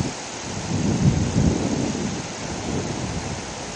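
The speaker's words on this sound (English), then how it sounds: "Wind and rain." Steady wind and rain from Hurricane Lee sweep over a farm garden, a broad continuous roar with gusty low rumbling swells, fairly loud and unbroken, with no voices.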